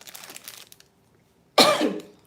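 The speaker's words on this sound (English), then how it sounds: "Why am I coughing right now?" A single loud, harsh cough bursts out after a quiet pause, preceded by faint soft rustling.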